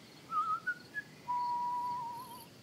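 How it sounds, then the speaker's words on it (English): A character in the video game Garden Life whistles its theme tune: a few short chirpy notes followed by one long held note, soft and close over quiet ambience, with no speech. "he whistles the theme tune for Garden Life"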